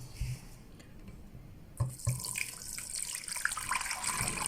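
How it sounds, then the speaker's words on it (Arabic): Water poured into a cooking pot while preparing maqluba with spices in a home kitchen: a faint splash, then a steady, brighter pouring flow building over several seconds, close and fairly quiet. "ونخوي الماء."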